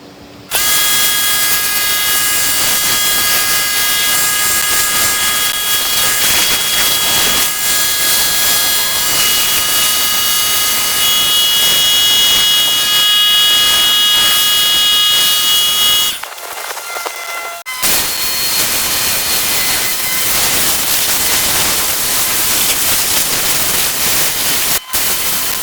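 A pressure washer runs steadily and loudly while rinsing a car, a constant high-pitched motor whine with a short pause partway through before resuming.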